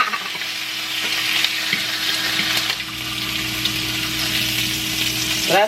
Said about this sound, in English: I'm gonna just throw my meat in here just to get it warmed through. This is pastrami.